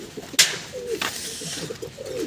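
Pigeons in a loft coo softly in short, rolling calls, with a brief sharp clatter near the start and a low crowded background of other birds, no speech.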